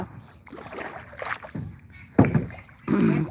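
Rhythmic splashing strokes of oars as a rowboat is rowed in rural Bangladesh, a few distinct pulls close by with soft wind noise between them.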